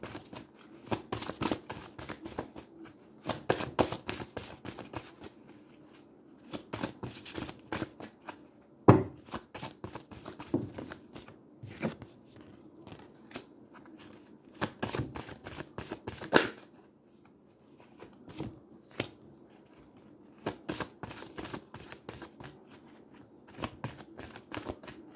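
Tarot cards being shuffled by hand in repeated riffling bursts, crisp and close, with short pauses and one sharp tap between runs, and no voices.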